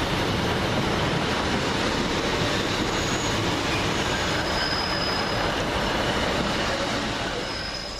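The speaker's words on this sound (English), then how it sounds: "It's now coming in. This will be our train out of here." A Class 150 diesel multiple unit train rumbles steadily up close into Hazel Grove station, wheels grinding and faint squeals riding over the broadband roar as it rolls in.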